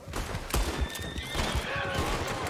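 Gunfire in the Western video game Red Dead Redemption 2: several sharp, close shots crack out irregularly over a busy mix of game sounds, with faint horse noises nearby.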